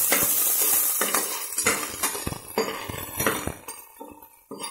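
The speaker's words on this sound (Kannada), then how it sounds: "ಇದನ್ನ ಸ್ವಲ್ಪ ಫ್ರೈ ಮಾಡ್ಕೊಬೇಕು" Ingredients frying in a pan for Kannada-style sambar, with repeated metallic scrapes and clinks of a spoon stirring against the pan over a soft background sizzle, fairly close and steady for several seconds.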